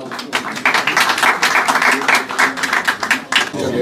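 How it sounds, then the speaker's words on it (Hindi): An audience at a book launch applauds steadily, a dense crowd clapping loud and close for several seconds. "तो आप लोग तालियां बजाइए इस मौके पे।"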